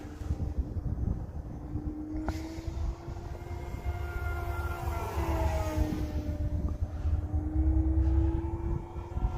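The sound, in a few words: E-flite T28 RC model airplane flying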